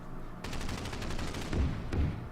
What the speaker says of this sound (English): Let's start by firing at it with this one